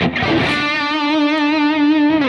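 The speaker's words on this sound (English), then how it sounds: "When it's distorted, you can hold it for longer because of all the distortion." A distorted electric guitar holds a single sustained note with steady, even vibrato, its gritty tone wavering in pitch for a couple of seconds before bending down at the end, alone and loud.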